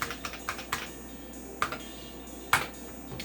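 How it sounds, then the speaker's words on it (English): Keys clatter on an IBM 5170 286 computer keyboard in scattered, uneven strokes, a few sharper clacks standing out among lighter taps, close and fairly quiet with no talking. "I could get used to this keyboard on a daily basis."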